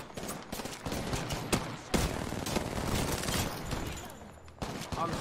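Rapid gunfire in Apex Legends, dense bursts of shots in quick succession with a few sharper cracks standing out, fairly quiet overall and steady throughout.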